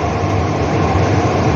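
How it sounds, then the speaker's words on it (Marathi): A Mumbai Aqua Line 3 underground metro train runs between Aarey JVLR and BKC, giving a loud, continuous rumble and rolling roar from inside the moving carriage, with no talk. "मुंबई में अंडरग्राउंड मेट्रो भी चलेगा"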